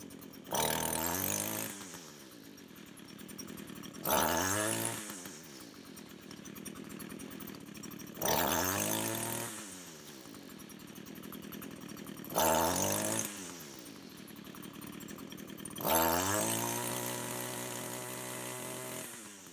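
A weed eater's small two-stroke engine is revved five times in a row, each loud throttle burst climbing and then sagging and bogging down before it settles back to a rough idle.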